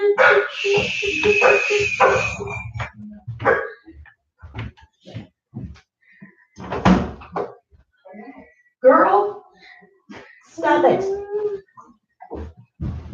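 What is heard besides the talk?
dog barking and whimpering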